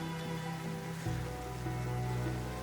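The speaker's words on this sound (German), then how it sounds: "Sieht auch nicht danach aus, als würde es die nächsten Stunden aufhören zu regnen." Steady rain falls outdoors at a fishing spot near the Arctic Circle, a continuous dense patter with a low rumble, fairly close and unbroken, with no talking.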